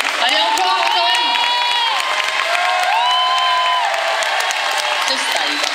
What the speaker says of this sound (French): Vous pouvez les applaudir bien fort quand même.